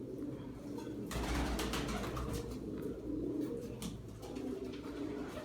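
Breeding pigeons coo softly and continuously in their loft, the low murmuring calls steady and fairly faint, with no one speaking.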